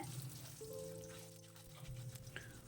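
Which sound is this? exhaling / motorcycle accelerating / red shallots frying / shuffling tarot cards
red shallots frying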